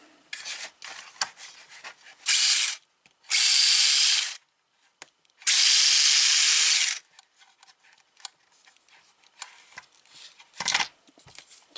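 Electric motor of a Mengk S608 1/24-scale 4WD off-road RC monster truck whines in three loud, sharp bursts of high-speed running, with quieter clicks and rattles between them and a short final burst near the end.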